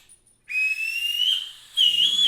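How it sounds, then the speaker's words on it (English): A bosun's whistle is blown in two loud, shrill sustained blasts, the first held steady after a brief faint peep, the second warbling slightly, close by with no talk. "so I got a bosun's whistle"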